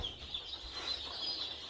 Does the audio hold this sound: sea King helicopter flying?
no